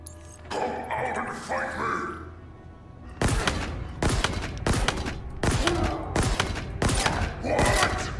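Single heavy gunshots from a weapon in the video game Halo Infinite, about six sharp blasts spaced roughly half a second apart, loud and close, following a stretch of game background noise with a voice talking.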